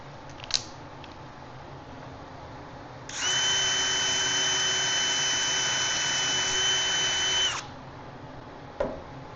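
A power drill bores a test hole in wood for a DIY planter box: one steady, high whine lasting about four seconds, close and loud, with a few small clicks before and after and no speech.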